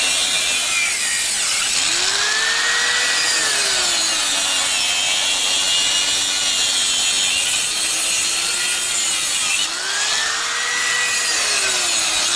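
Hand saw blade cutting through a coconut tree trunk, a continuous loud rasping, scraping stroke with rhythmic swells, close and alone without talk.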